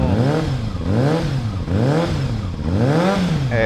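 A Yamaha XJR-400 air-cooled four-cylinder motorcycle engine revs repeatedly, its pitch rising and falling in regular waves, loud and close with no talking.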